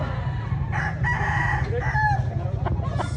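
A rooster crows nearby at a rooster expo in Consolacion, Cebu, its drawn-out call rising over a steady low rumble of background noise.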